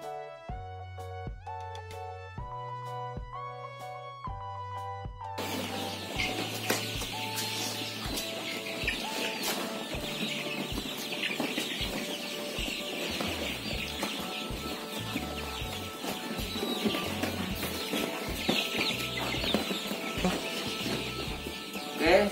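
A flock of about 400 hungry male chickens on a poultry farm clucks continuously while their empty feeders are refilled, with a busy, dense din. A few seconds of melodic tones play first, before the birds take over.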